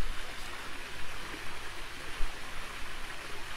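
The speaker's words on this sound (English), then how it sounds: "they're saying no, it's just a waterfall" Water pours steadily over a pool waterfall at a Florida resort, a continuous broad splashing rush heard close and alone.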